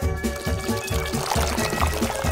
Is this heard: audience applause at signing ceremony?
no